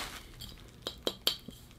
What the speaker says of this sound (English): We have a glass beer bottle.